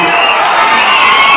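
A political rally crowd in Guntapalli near Payakaraopeta cheering and whistling, a dense, loud, continuous roar of many voices with shrill whistles on top.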